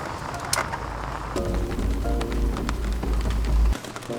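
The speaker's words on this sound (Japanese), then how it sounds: "今からさらに雨が激しくなって朝の7時まで降り続くようです。" Heavy rain during a typhoon drums steadily on a parked camper van during an overnight stay in Tokyo, a dense continuous wash with a deep rumble underneath and scattered sharper drops.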